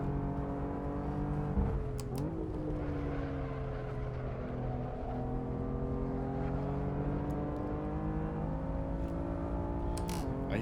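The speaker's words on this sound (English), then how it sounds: "I hear traction control kicking in," A BMW M4 race car in the Assetto Corsa sim drones steadily at high revs, its engine note wavering and briefly stuttering as traction control cuts in, close and loud throughout with no talk.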